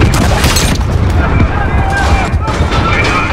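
A demolition charge goes off in Call of Duty: Modern Warfare, a loud, close, rumbling blast with debris and crackle that stays dense for the whole moment, with voices beneath it.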